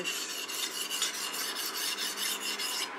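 A sashimi knife blade is stroked across an extremely fine whetstone, producing close, repeated scraping rasps in a quick, even back-and-forth rhythm, with no talking.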